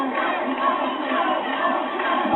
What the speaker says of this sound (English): Crowd trying to lift them in this last 100 metres